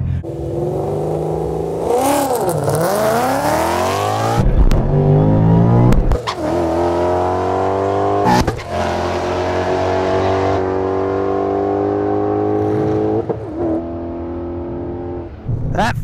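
A 700+ horsepower 2015 Ford Mustang GT launches down a drag strip, its engine roaring close and loud with rising, sweeping revs and gear changes over about sixteen seconds, no talk.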